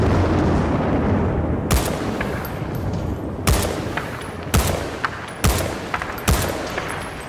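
Five sharp, loud gunshot blasts from Battlefield Bad Company 2 ring out at uneven intervals over a steady rumbling battlefield backdrop, with no voices.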